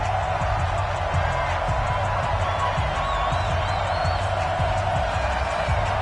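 Stadium crowd noise from an EA Sports football video game, Minnesota Vikings versus Chicago Bears, a steady dense roar of cheering with faint whistles, continuous and moderately loud throughout.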